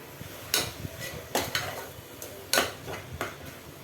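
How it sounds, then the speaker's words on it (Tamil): Mushrooms sautéed in masala with yogurt for mushroom biryani, with a spoon scraping and knocking against the pan in a few uneven strokes over a faint sizzle, with no talking. "நல்லா வதக்கி விட்டுக்கலாம் மசாலாவில்."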